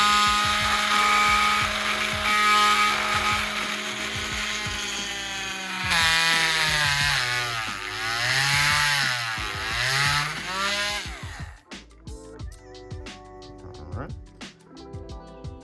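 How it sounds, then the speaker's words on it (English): A power drill whines steadily for several seconds, pitch dipping as it bites into a plastic toy, then stops; clicks and handling noises follow. "Let's go and drill a hole."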